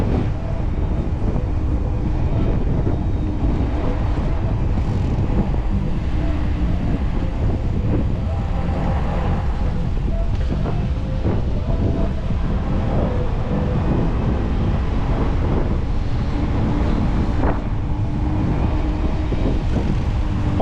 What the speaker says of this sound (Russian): Ух, какой ветер задувает, паршивец.